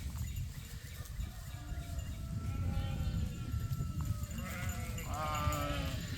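Sheep bleating while grazing a pasture along a fence line, several faint to moderate calls from a few animals that overlap toward the end, over a steady low outdoor rumble.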